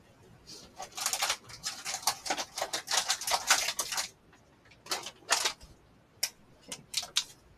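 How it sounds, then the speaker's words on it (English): Metal paper clips being sorted and handled on a desk, giving quick bursts of light clicking and rattling clustered in the first half, then a few sparse separate clicks, with no talk. "Let me get my paper clips."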